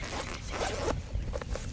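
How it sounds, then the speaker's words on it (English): Heavy-duty zipper on a Maxpedition Condor II backpack being pulled along its track, a close, continuous rasping run with a few brief catches and tugs near the end. "So the zippers are super solid zippers, heavy duty zippers."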